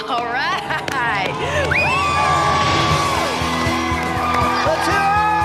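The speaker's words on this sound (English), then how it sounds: "All of these kids were so excited. They were screaming and they were yelling." Excited young children scream, shout and whoop together as a loud, continuous crowd, high squeals rising over a dense clamor with occasional bangs.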